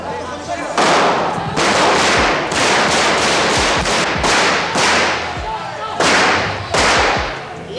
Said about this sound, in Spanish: puesto que Antonio Tejero entró a tiros en el Congreso.